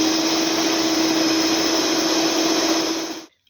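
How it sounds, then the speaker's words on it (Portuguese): A stand mixer whipping six egg whites to stiff peaks for sponge cake batter, a loud steady motor whine with a constant hum, running evenly for about three seconds before cutting off abruptly into silence. "como eu tô com as 6 claras aqui dentro da minha batedeira já, o primeiro passo é iniciar batendo as claras em neve"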